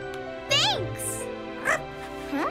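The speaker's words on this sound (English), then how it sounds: "Oh, so cute! It's a puppy." A cartoon puppy yips and whimpers in three short, high, sliding cries spaced through the moment, bright and close, with a quieter synthetic tone in the background.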